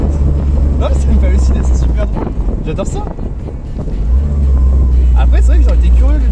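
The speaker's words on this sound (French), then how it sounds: "J'aime bien ce bruit de tracteur." Loud, steady low engine drone from a Jeep Wrangler 4x4 while driving, a rough tractor-like rumble running throughout with wind buffeting, and someone talking over it.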